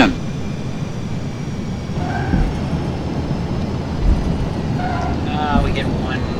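A flight-simulator Boeing 737-200 airliner lands on a runway and deploys thrust reversers, a steady loud roaring engine wash with wind noise, short tonal cockpit beeps, and a few light thumps.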